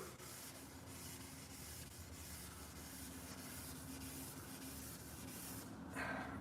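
Steady, quiet scraping and rubbing of sandpaper against a car body, continuous for several seconds with a brief louder burst near the end.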